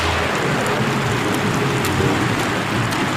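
Heavy rain pours steadily as a dense, continuous hiss, with occasional louder drips and a low rumble underneath.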